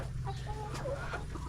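Backyard chickens, a mix of roosters and hens, cluck and chatter close by in short, irregular calls over a steady low hum.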